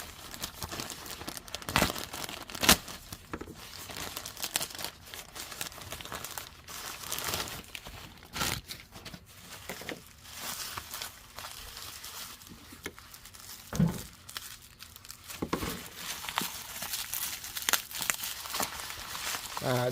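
Plastic knife case handled and opened: irregular crinkling, tapping and clicking of hard plastic throughout, with a few sharper snaps, close and fairly quiet.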